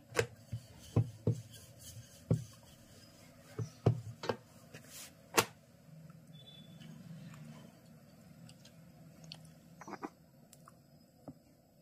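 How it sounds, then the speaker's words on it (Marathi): Knife cutting the edges of rolled wheat (khapli wheat) flour shankarpali dough on a kitchen counter, giving a series of sharp, close chopping taps at an irregular rhythm, busier at first and then sparser, with no talking. "याच्या साईड म्हणजे कडा आपल्याला कट करून घ्याव्या लागतात."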